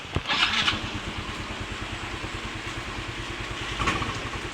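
A Yamaha Mio i 125 scooter engine turns over with a quick push-start whir, then catches and settles into a steady, close putter with a brief rev near the end.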